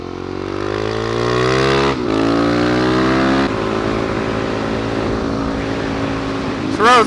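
A motorcycle engine at full throttle on a bumpy gravel road roars loudly and steadily, climbing in pitch through gear changes with brief drops between shifts.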